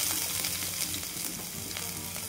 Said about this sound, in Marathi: आणि तेल पण आपलं गरम झालेलं आहे, छान चटकलेले आहे जिरं. त्यामध्ये मी कांदा टाकून घेते.